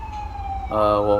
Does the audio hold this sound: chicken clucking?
no